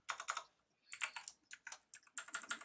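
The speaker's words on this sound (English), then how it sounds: "super clicky keyboard" Clicky computer keyboard typed in quick bursts of close, crisp keystrokes, with short pauses between flurries and no talking.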